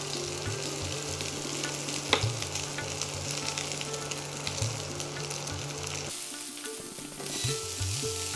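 Potatoes and vegetables sizzle steadily in a pan while labra is cooked, a dense close frying hiss with a few stirring scrapes; the sound thins and shifts briefly near the end.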